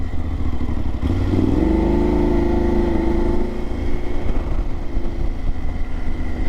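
A BMW GS 850 Sport motorcycle engine runs loud and close, revving up with a rising drone and then settling into a rougher steady rumble as the bike is ridden, with no talking.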